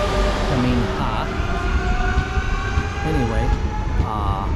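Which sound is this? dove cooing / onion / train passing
train passing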